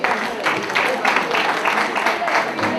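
Dense applause from guests at a farewell party, steady and fairly loud throughout, with a faint crowd murmur underneath.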